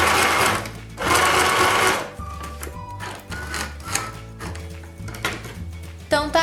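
Sewing machine zigzag stitching a folded hem, loud bursts of fast rhythmic stitching that slow into uneven pulses, close up with light handling clatter between runs.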